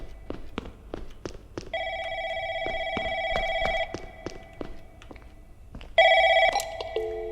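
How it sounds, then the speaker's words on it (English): An old-style telephone bell rings in long tonal bursts over steady tapping footsteps in a horror video game, then a louder, brighter ring cuts in near the end. "I guess we'll go towards the phone noise."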